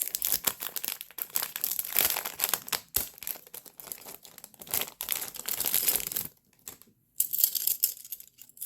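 Plastic packaging of Dollar Tree items being opened by hand, close crackling and crinkling in busy bursts, with a short quiet gap before a final burst.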